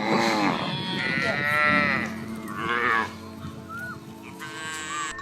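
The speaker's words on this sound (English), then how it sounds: "mama of 60 plus cows." Cattle from a herd of more than sixty cows moo in long, drawn-out calls, several overlapping lowing voices close by, with quieter moos and a higher call near the end.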